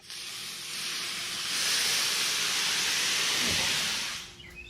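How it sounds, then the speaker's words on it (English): Loud steady hiss of water poured onto a hot Blackstone griddle while cooking pizza, swelling for a few seconds and then cutting off. "to add some more steam effect, I'm just going to take some water."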